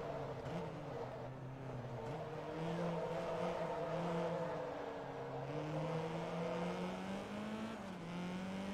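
Car engine in Forza Motorsport 2 revving steadily through rising and falling gear changes, a continuous loud drone with pitch climbing and dropping as it shifts up through the gears.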